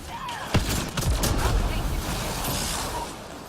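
Video game gunfire in Mass Effect: Andromeda, several sharp shots and bursts close by over a noisy battlefield, with a voice talking over parts of it.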